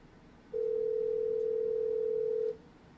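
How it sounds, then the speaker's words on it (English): A steady telephone dial tone sounds alone for about two seconds, close and clear over a faint background hiss, then cuts off abruptly. "Let me see if I can get Kat on the phone"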